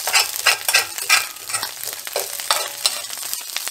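Pemmican and an egg frying in a pan, a close, bright sizzle with crackling bursts and stirring scrapes, no talk over it.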